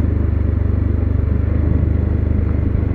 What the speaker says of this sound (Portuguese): vai ter uma moto subindo lá embaixo